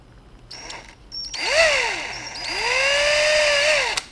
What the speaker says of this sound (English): I'll drill another one.